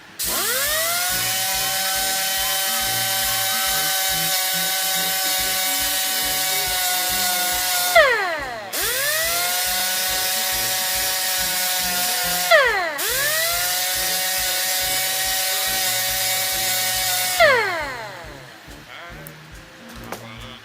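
A power tool spins up to a steady high whine several times while working on steel, each run lasting a few seconds and ending in a falling pitch as it winds down, close and loud.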